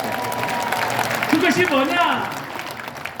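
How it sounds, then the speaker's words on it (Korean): Church congregation applauding together during a sermon, a steady wash of clapping that runs the whole stretch while a voice speaks over it. "다 같이 하나님께 영광의 박수."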